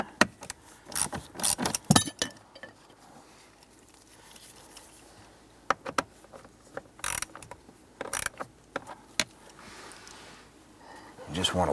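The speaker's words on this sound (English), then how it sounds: "We're going to use our 1/4-inch ratchet, and we're going to use" A 1/4-inch ratchet with an extended socket loosens 8mm screws on the HVAC blower motor of a 2005–2007 Ford Five Hundred, giving scattered bursts of ratcheting clicks and metallic clatter amid quieter handling noise.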